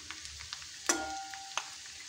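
Onion frying in a pan for dal khichdi gives a steady, soft sizzle with a few brief utensil clinks and one sharp metallic tap, moderately quiet and without voices.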